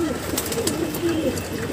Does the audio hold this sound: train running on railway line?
no